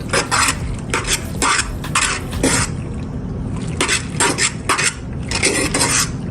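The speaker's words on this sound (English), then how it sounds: "Then I get my fork. Get my fork. I mix that together." A fork clinks and scrapes against a bowl in quick bursts of stirring, with brief pauses between rounds, close and clear with no talking.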